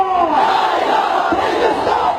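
Large crowd chanting the slogan La ilaha illallah, a massed roar of many voices in unison, loud and sustained throughout.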